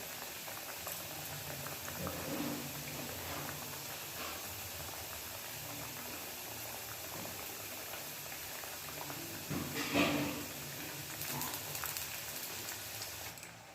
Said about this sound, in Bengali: এগুলোকে ধীরে ধীরে এবার তেলের মধ্যে দিয়ে দিচ্ছি